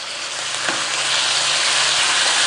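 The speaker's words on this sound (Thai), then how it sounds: "ผัดเนื้อหมูกับน้ำมันก่อนนะคะ" Pork sizzles and crackles loudly in hot vegetable oil in a wok, a steady stir-frying hiss with a couple of faint utensil taps.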